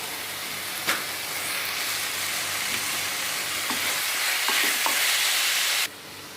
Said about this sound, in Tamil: சேர்த்துட்டு இதை ஒரு தடவை நல்லா வதக்கி விட்டுக்கலாம்.